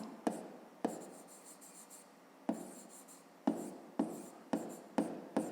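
A pen scratches across paper in short, close bursts of writing separated by brief pauses, as numbers and words are written out for a fifth-grade maths exercise.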